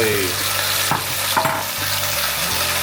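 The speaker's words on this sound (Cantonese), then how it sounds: "直接將我哋醃好啲雞直接倒落去" Marinated chicken stir-fried in a wok with five-finger fig root in a home kitchen: a steady close sizzle with a few scraping spatula strokes and clatters, no voices.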